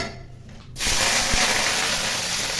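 Mustard seeds and brinjal frying in hot oil in a kadai for Tamil kathirikkai masala: a quiet lull, then a sudden loud, steady sizzling hiss that holds on close up.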